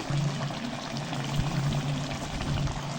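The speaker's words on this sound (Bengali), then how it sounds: "কষানো হয়ে গেছে, এবার দিয়ে দিচ্ছি একটু গরম জল।" Hot water is poured into a simmering soybean and potato curry, a steady gurgling, bubbling pour heard close up and running without a break, with no speech over it.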